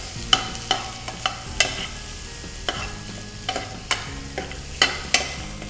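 Prawn popcorn deep frying in hot oil, a steady crackling sizzle broken by repeated sharp clinks and scrapes of a utensil stirring in the pan.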